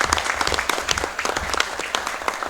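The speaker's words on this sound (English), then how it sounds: "another round of applause and congratulations to all those summer readers." A crowd at a Board of Education meeting claps steadily and loudly, dense overlapping hand claps filling the whole stretch without pause.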